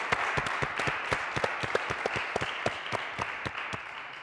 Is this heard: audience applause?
yes